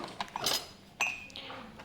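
Metal spoon clinking against ceramic tea cups in a home kitchen, a few short bright clinks with a ringing tone, close and fairly quiet.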